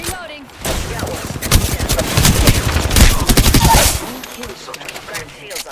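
Video game gunfire in Apex Legends rattles in dense, rapid automatic bursts. The shots are loud and close and continue for several seconds before fading to quieter background game sounds.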